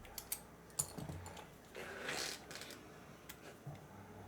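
Keystrokes on a Neo65 mechanical keyboard with an aluminum case and plate, tactile switches and DCS keycaps: a few soft, scattered clicks and clacks, quiet and close, with a brief rustle in the middle.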